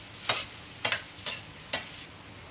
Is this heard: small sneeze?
no